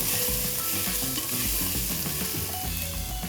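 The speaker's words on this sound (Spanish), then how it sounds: "Vamos a revolver." Chopped vegetables and garlic frying in a pan, a continuous bright sizzle with soft scraping from a utensil stirring them.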